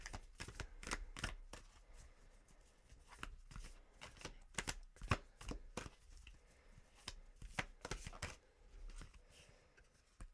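Tarot cards are shuffled close by and quietly, with a steady run of crisp riffling flicks and soft slaps over about ten seconds.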